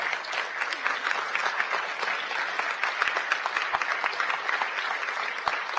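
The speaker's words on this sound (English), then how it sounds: "A round of applause once again." A seated audience at a 2019 Eisenhower Fellowships event in Kigali applauds continuously, a bright, crackling mass of claps with no speech on top, holding steady throughout.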